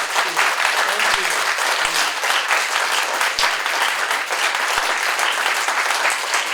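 Steady, dense applause from a colloquium audience, many hands clapping at once for several seconds at an even, loud level with no breaks.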